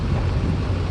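Strong cold wind buffeting outdoors at a fireworks display, a steady loud broadband roar rushing over the microphone with no pause and no voices.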